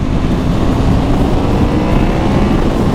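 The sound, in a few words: Yamaha MT-10 motorcycle accelerating out of a curve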